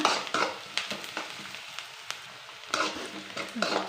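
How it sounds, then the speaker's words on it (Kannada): Sliced onions frying in oil in a pan for a garlic rasam, a steady close sizzle with intermittent spoon scrapes and stirring clicks, heard alone without talk. "ಈರುಳ್ಳಿ ಚೆನ್ನಾಗಿ ಸ್ವಲ್ಪ ಕಲರು ಗೋಲ್ಡನ್ ಕಲರ್ ಬರಲಿ ಅಲ್ಲಿ ತನಕ ಇದೇ ಥರ ಒಂದೆರಡು ನಿಮಿಷ"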